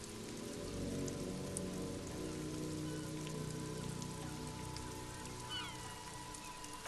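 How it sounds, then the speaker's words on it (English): Steady rain patters and drips off Eternite-covered roofs along an urban coastline in the video game Disco Elysium, a quiet, even wash of drops that continues throughout with no voices. "Urban coastline, rain dripping off Eternite-covered roofs."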